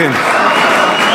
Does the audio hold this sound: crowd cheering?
yes